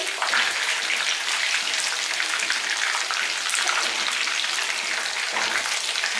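Dense, steady sizzling and crackling of pakoras frying in oil, a continuous hiss close by with occasional stirring.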